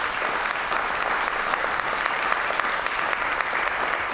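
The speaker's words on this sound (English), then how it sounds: "Can we get a round of applause for Paul McLaughlin?" Steady, dense applause from an audience honoring a speaker at a company leadership event, sustained and fairly close for the whole stretch with no talk over it.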